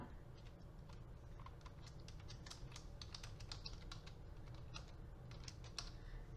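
Computer keyboard typing, quiet and close, with a steady run of irregular key clicks over a low background hum, while a math question is entered.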